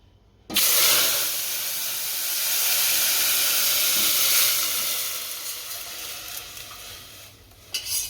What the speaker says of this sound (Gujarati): તેલ ગરમ થઈ ગયું છે, આ છાશનું જે બેટર બનાવ્યું એ નાખી દઈએ આમાં